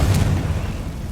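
A Confringo blasting spell in Hogwarts Legacy detonates in a single deep boom, its rumbling tail quickly fading away.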